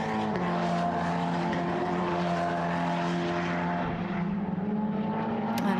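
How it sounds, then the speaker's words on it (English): A Hoosier Formula Cup single-seater race car during qualifying at Portimão gives a loud, steady engine drone that holds close throughout, with a slight pitch shift near the end and no talk. "That's Nano Lopez for TS Corsa, the car that we're following just in front of this one, which is Hugh Barter."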